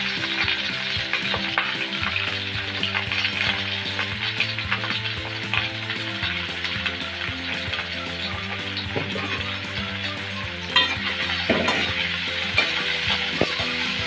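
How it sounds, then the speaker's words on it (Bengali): Onions and green chillies fry in oil in a pan, browning with a loud, steady sizzle and occasional stirring scrapes, heard alone with no talk. "পেঁয়াজ মরিচটা একটু বাদামি করে ভেজে নেব আগে"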